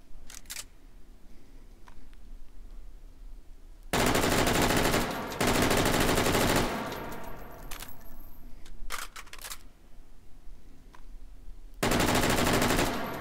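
AUG rifle fired one-handed in a VR game, with short bursts of loud, sharp shots separated by quieter stretches and scattered mechanical clicks.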